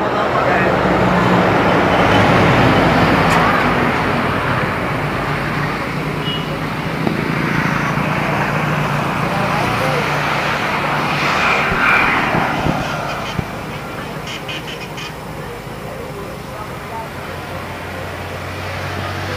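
Bugis pitu-pitu kites shaped like airplanes humming overhead in the open sky, a steady broad droning whir much like a distant aircraft, with people chatting faintly nearby.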